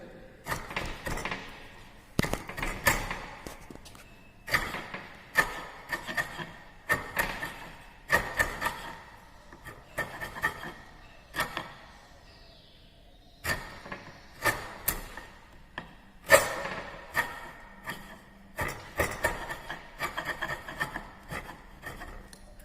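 Wood being chipped with a hand chisel at a carpentry bench, giving a series of sharp, irregular knocks and scraping cuts at close range, separated by short pauses, with no voices.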